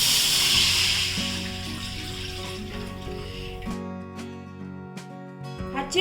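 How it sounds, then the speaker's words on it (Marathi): Water is poured into a kadhai on a gas stove to make wheat kurdai dough. A close, hissing rush of pouring water fades out over several seconds, leaving quieter background tones. "याच्यामध्ये ना मी पाणी घालते"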